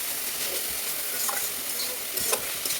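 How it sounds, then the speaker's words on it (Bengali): Mixed leafy greens fry in a little oil and are stirred, giving a bright steady sizzle with a few soft scraping strokes up close and no voices. "এবার একটু সামান্য পরিমাণ তেল দিয়ে দেবেন, ভালো করে নেড়ে চেড়ে নেবেন।"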